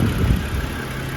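Running 2012 BMW X3 with a 3.0-litre inline six and 164k miles, heard close up as a steady, loud, even idle with no voices.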